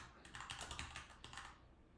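Quick, soft keystrokes tap on a computer keyboard in an irregular burst that trails off, faint and close with no voices.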